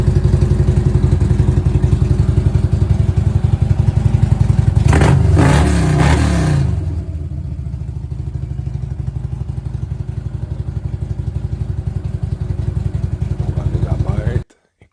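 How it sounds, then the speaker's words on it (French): A motorcycle engine running in a garage, its steady low rumble and rapid throbbing idle sharpened by a loud rev and clatter burst midway, then settling back to a steady idle before cutting off abruptly at the end. "Le son sublime de notre moto."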